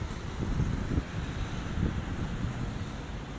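Steady breeze on a rooftop buffets the microphone, a continuous low rushing roar with gusty swells and no voices.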